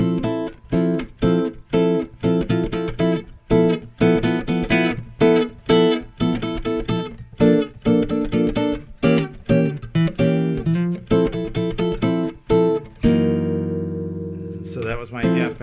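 An acoustic guitar strums a diminished chord progression voiced on the top four strings, a series of rhythmic, close chord strikes that ends on a long ringing chord.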